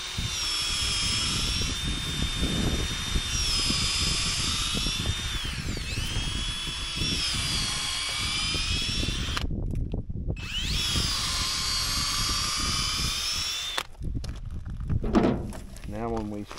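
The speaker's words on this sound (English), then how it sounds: "Next thing we're going to do is use this really long drill bit." A power drill with a very long bit bores into a wooden post, whining loud and steady with pitch shifts, cutting out briefly, then starting again before stopping amid clatter near the end.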